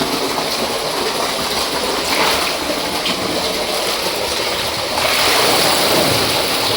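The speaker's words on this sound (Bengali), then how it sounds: "এই মাছটা জল ওয়াশ হচ্ছে, দেখেন। আর এখান থেকে জল পড়ছে আর এখান থেকে নোংরা জল বেরিয়ে যাচ্ছে।" Water pours and splashes steadily over black carp fish being washed, a dense continuous rushing that swells louder near the end, with no voices.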